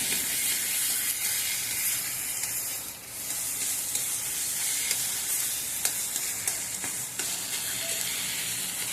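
Cauliflower mash being stirred and fried in a wok, with a steady bright sizzle throughout and scattered scrapes and clicks from the spatula, close and loud with no talking.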